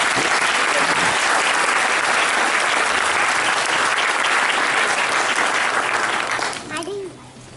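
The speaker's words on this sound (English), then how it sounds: "Let's give her a big round of applause." A room of people at a Parents Day event clap loudly for a student, a dense burst of applause with cheering that fades out near the end.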